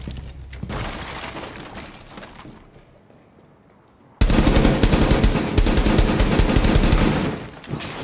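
Automatic gunfire bursts loudly in Rainbow Six Siege, a short spray at the start, a quieter lull, then a sustained heavy stream of rapid shots with shattering debris for the last few seconds.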